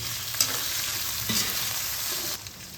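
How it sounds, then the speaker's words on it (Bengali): Chopped tomato goes into a hot pan of frying vegetables for a vegetarian pumpkin dish. It gives a steady, close sizzling hiss with a few light clinks and stirring scrapes, and no one speaks. "এবার এখানে আমি কুচনো টমেটোটা এর মধ্যে দিয়ে দিচ্ছি"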